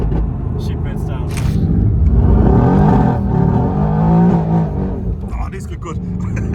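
A Mercedes-AMG GT R engine revs hard and accelerates, a loud, close, rising roar that swells and falls over several seconds, with people talking over it inside the car.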